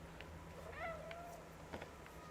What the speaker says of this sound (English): you can actually see the cat doing meow, and it will make different